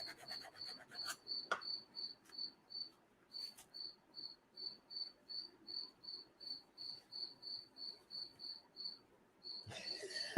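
A loud cricket chirps indoors in a workshop, steady evenly spaced pulses repeating for the whole stretch, with a few brief clicks and knocks near the start and a burst of louder handling noise at the end.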